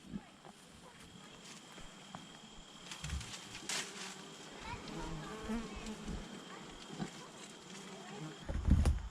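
Honey bees buzzing steadily in and out of a hive at close range outdoors, with rustling and footstep-like thumps and occasional voices around them.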